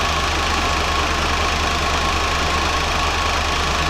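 A Chevrolet C10 pickup engine idles steadily with no throttle applied, a continuous low rumbling drone with faint knocking texture throughout, close and alone.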